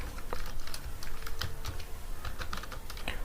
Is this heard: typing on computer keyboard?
yes